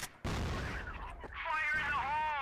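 A grenade detonates in the shooter game CrossFire with a loud, sudden boom, followed by a ringing, tonal whine. A player shouts over the blast.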